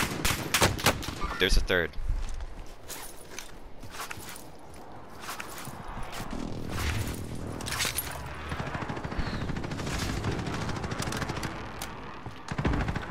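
Rapid bursts of gunfire during a Warzone video game match, sharp close shots in quick clusters early on and scattered shots later amid movement noise, with brief talking over the action.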